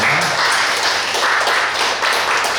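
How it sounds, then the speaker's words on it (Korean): Loud, close applause from a church congregation during a Sunday service welcoming members, dense continuous clapping with slight swells throughout. "박수로 한번 환영하겠습니다"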